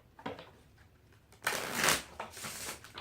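A deck of standard-size tarot cards is shuffled by hand, starting with soft, scattered riffling, then swelling into a louder, dense burst of card flutter before settling into lighter handling.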